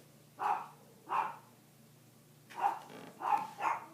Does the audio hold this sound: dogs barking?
yes